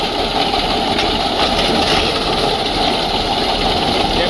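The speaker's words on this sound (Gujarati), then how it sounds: "ટ્રેક્ટર આગળ વાળતા જાય છે અને નીચે પીટીઓ ફિટ કરેલો છે, પાછળ પીટીઓથી ફરે છે આગળ કટર" A tractor engine drives a PTO-powered wheat reaper-binder costing 2.65 lakh while cutting organic wheat, a loud steady mechanical roar with constant vibration and no pauses.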